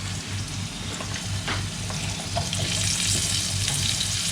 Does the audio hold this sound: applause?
no